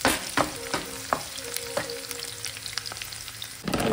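Garlic fries in a pan until it turns reddish-brown, as the base for dhaba style chicken. A steady close sizzle runs throughout, broken by sharp scraping clicks of a spatula stirring.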